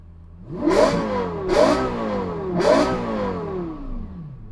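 A Lexus LFA, car number 272, revs three times in sharp rising bursts, each climbing to a loud wail then falling back to a throaty idle, close and alone.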